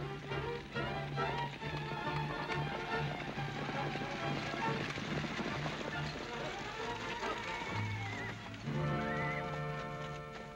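Horses gallop in a busy mix of hoofbeats, music and noise, with a team driven in a hurry somewhere in the scene.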